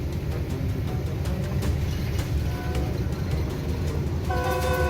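A high-speed train rushes past near Jhelum with a loud, continuous rumble and clatter, and a tonal horn blast sounds toward the end.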